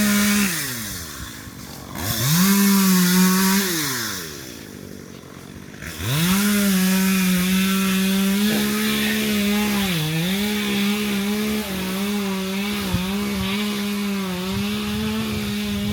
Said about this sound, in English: I'm walking up on a tree cutting right now. It's gonna be a little loud.